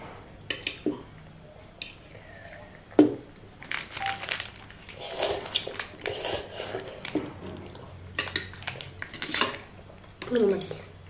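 Samyang spicy instant noodles are eaten with chopsticks, bringing repeated clinks and scrapes of utensils against bowls and dishes, along with soft wet slurping and rustling, close and fairly steady, with no talking.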